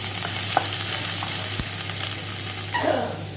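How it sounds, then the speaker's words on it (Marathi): Onion sautéing in a pan with chili, cumin and curry leaves, continuous close sizzle with a few light stirring clicks and scrapes. "आपला मिरची जिरा आणि मिरची छान कढीपत्ता टाकून घ्यायचा कांदा कांदा छान असा परतून घ्यायचा"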